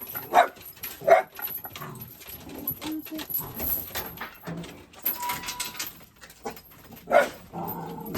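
Two pet dogs being let out in front of a small home shop bark and yip in short bursts, close by and loud, while someone talks over them.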